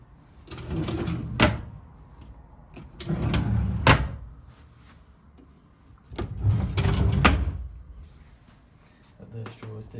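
Slightly loose wardrobe doors in a rented flat are opened and closed several times, each pass giving a rattling swing and a sharp knock, close by with no talk.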